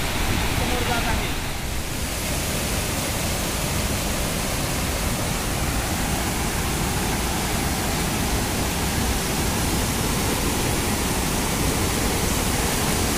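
Water rushes over the spillway of Isrup lake near Washi, Dharashiv, in a continuous, loud, even roar that fills the whole span without a break.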